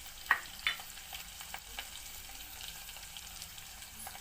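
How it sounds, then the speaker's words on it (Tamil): Onions being stir-fried in a pan for murungakkai kara kuzhambu: a steady, faint sizzle with a couple of soft spatula knocks near the start, no talking. "எல்லாத்தையும் போட்டுட்டு இப்போ நல்லா அதை வதக்கிடுவோம்."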